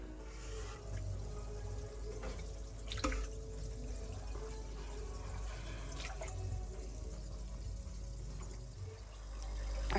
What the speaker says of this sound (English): Okay, so the filter is now on